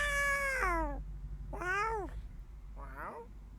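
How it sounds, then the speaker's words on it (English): Three drawn-out meows, each sliding down in pitch, separated by short pauses and heard fairly close. "it was the cat."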